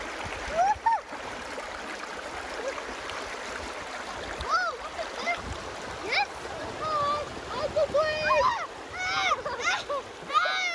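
A creek flows through jungle, its steady rushing, splashing wash running the whole time at close range, while people talk and call out intermittently over the water.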